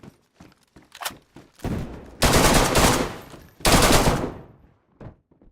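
DayZ automatic rifle firing from a 70-round magazine: a few scattered shots, then two long, loud sustained bursts of rapid gunfire close by, separated by a short pause, with quieter shots trailing off at the end.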